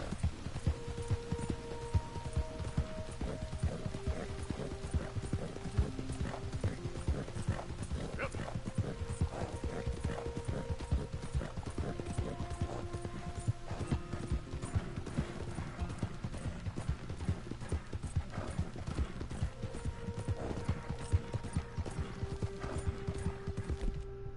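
Steady clip-clop of horse hooves trotting in a brisk, even rhythm in the video game Red Dead Redemption 2, with occasional game chimes and tones layered above.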